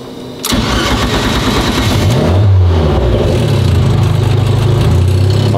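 A car engine cranks and fires into a loud, close idle, the starter whir giving way to a steady throbbing rumble with a short rise in revs, with no talk over it.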